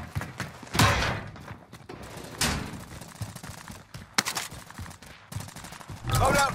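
Hostile gunfire in the video game Warzone, sharp bursts and single cracks arriving irregularly, some close and loud and others more distant, with game voices briefly heard between shots.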